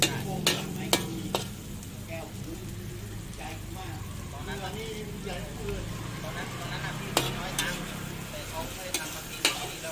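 Wild boar meat being stir-fried in a pan for a spicy Thai dish, with a steady sizzle and scraping of the spatula, occasional sharp clacks against the pan, and someone talking over it.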